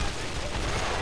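A steady, loud wall of gunfire from the Brothers in Arms shooter game fills a brief second without a break.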